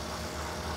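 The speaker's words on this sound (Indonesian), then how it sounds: "Dan ini suara mesinnya" A 2011 Toyota Avanza S with its 1.5 VVTi engine and automatic gearbox idles in a steady, smooth, even hum, heard close and alone.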